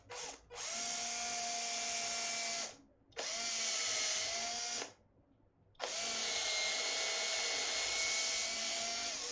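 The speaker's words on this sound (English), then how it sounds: "I'm gonna drill in the back here." A power drill boring into the back of a piece, running in three long steady bursts separated by short pauses, loud and close with no talking.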